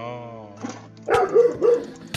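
A dog in a Minecraft game barks several times in quick succession, loud and close, after a brief whining tone at the start.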